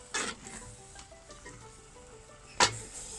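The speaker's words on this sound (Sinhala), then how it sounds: "හොඳට මේ විදිහට කලවම් කරගන්න ඕනේ." Mango chutney is stirred in a pan on the stove, with two short scraping bursts of the spoon against the pan, one at the start and one near the end, over a faint sizzle.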